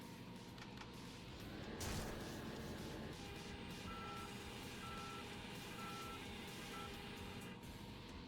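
Forklift in the video game Yakuza: Dead Souls sounds a steady run of evenly spaced reversing beeps over a constant engine rumble and background game noise, with no talking.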